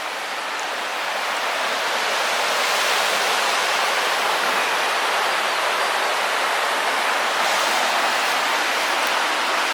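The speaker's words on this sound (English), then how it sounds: "listen to that roar. Love the sound of water, man." River water rushing at Ladybower, a steady loud broadband roar that holds constant throughout with no talk.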